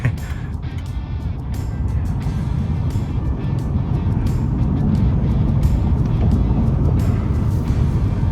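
Ford F-150 Lightning electric pickup accelerating hard from a stop on a back road, a loud sustained roar of road and tire noise rising steadily with no engine note.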